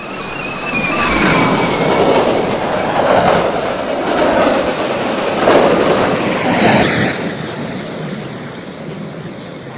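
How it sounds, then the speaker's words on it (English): Amtrak train on the Keystone Corridor at Princeton Junction, NJ in a Roblox game, rumbling steadily toward the station with rhythmic clickety-clack and a faint wheel squeal, loud and continuous throughout. "A train is approaching station."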